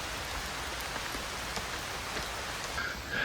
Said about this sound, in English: As you can hear, the rain is rather more insistent, resisting it down.